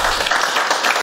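An audience claps loudly and densely, a continuous burst of overlapping hand claps filling the space before cutting off abruptly at the end, with no talking.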